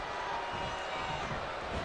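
A steady roar from a capacity crowd in WWE 2K25 backs young Rocky Maivia during a match, a dense, continuous wash of cheering with no breaks and no commentary in the clip.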